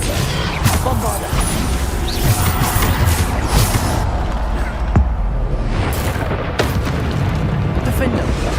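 Bombarda spell blasts in Hogwarts Legacy, several booming explosions and crackling bursts in a busy, dense stretch of combat, loud and repeated over a steady rumbling backdrop.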